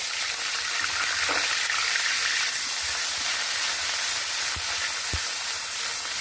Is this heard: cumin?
yes